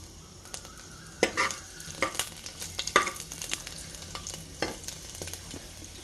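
Garlic and spices frying in a pan for cashew paneer pulao, a soft continuous sizzle punctuated by sharp scraping and clinking as a utensil stirs, fairly quiet and close, with no talk.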